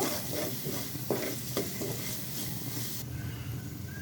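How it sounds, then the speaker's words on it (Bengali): Boal fish curry with turmeric being stirred in a pan, a steady scraping and faint sizzle running throughout, with a couple of sharper utensil knocks midway. "এখন এটাকে ভালোভাবে নেড়ে নিব।"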